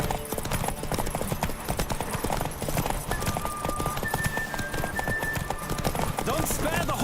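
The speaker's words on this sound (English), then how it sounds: "Don't spare the horse." Horse hooves galloping in The Witcher 3, a fast continuous clip-clop rhythm close up, with game music tones and ambient effects layered underneath.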